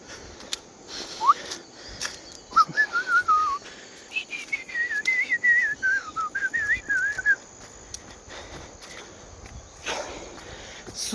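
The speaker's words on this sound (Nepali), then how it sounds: "सुसेलिँदै" A person whistling a wandering melodic tune while hiking along a forest trail in the mountains, with clear phrases in the middle, occasional footsteps and faint bird chirps around it.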